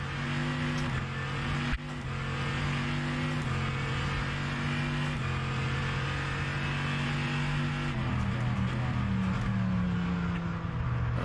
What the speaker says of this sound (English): I think I've definitely got the engine note right with this one.